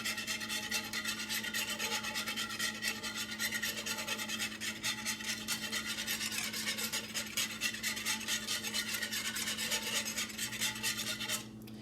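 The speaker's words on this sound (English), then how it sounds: "It'd probably just be best to use a whisk, kind of get those lumps out" A whisk scrapes steadily through a simmering casserole mixture to break up lumps, making a continuous close rasping and rubbing sound with no pauses for nearly twelve seconds.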